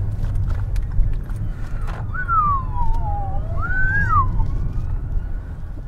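A police car siren wails in rising and falling sweeps, fairly distant, over a constant low rumble of traffic in Batley.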